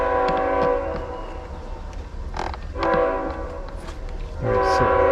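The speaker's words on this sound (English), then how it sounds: "You get to see another train." A train rolls past with a steady rail rumble while its horn sounds in several long, loud blasts, heard from nearby in a noisy area, with no one talking.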